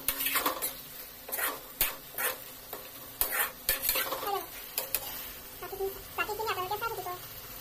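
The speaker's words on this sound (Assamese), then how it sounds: "জলকীয়া কাটি মেলি অলপ লৰাই দিলোঁ" A spoon stirs sizzling curry with chopped chilies in a pan, giving scraping knocks against the metal in bursts over a soft frying hiss, close by, with a voice talking between strokes.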